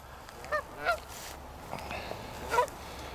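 A goose couple gives three separate nasal honks, one after another and close by, over a quiet outdoor background.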